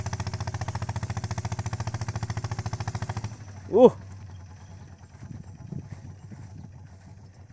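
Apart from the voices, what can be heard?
racing tractor engine running in cassava field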